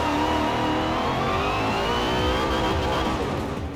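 Car engine revving hard in a Forza racing game on a cliffside scramble track, a continuous mid-pitched roar rising and holding with whining tone, loud and close with no talk.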